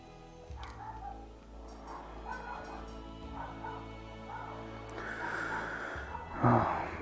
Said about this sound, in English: My dogs found the neighbor dogs.